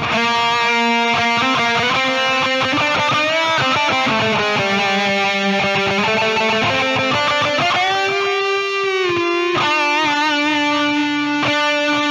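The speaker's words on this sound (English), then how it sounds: "Delay, and you can sync it up to the tempo of the song." Electric guitar played through the Audio Assault Sigma EX amp simulator with a tempo-synced delay effect, a sustained distorted tone ringing out continuously with trailing repeats under the notes.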